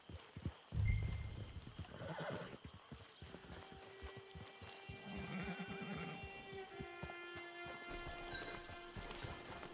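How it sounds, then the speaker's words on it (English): A horse in Red Dead Redemption 2 on PS5 lets out a loud, close whinny, then its hooves clip-clop at a steady walking pace over a background of ambient game sounds. No one talks. "Get your horse."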